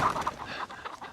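A few quick, close clucks from chickens in a short burst.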